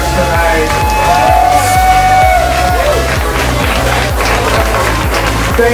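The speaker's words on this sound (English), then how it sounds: "Make a huge round of applause for our winners tonight" Sustained applause and cheering from an audience for leather contest winners at the Atlanta Eagle, 2015, loud and steady throughout over a pulsing low music beat, with scattered whoops.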